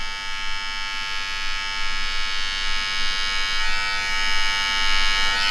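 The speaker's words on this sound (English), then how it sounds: "You want to take your clipper, turn it around, and then cut it like this." An electric hair clipper buzzes steadily up close, held reversed while trimming a taper fade, with a bright constant motor drone whose texture shifts slightly as it cuts hair.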